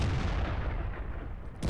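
A tank cannon shot in World of Tanks, a single heavy booming blast that rolls and fades over the next second or so, followed by a brief click at the end.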